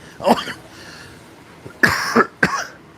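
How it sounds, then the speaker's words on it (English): Several sharp coughs in separate bursts, one early and a cluster of two or three later, close and fairly loud. "Y'all make me cough."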